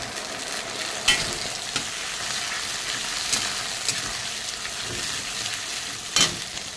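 Tomato paste and chopped tomato go into onions frying in oil, bringing a steady, loud sizzle with occasional stirring scrapes and clatters, close up, with no voices.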